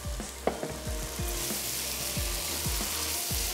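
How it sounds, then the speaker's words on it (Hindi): Okra frying in masala gives off a continuous sizzle while a spoon scrapes and knocks against the pan in a run of soft, repeated low thuds, like the spoon tapping the pan bottom as the okra is stirred and mixed. "अब इसमें ऐड कर देते हैं ये भिंडी। अच्छा सा करते हैं इसको मिक्स।"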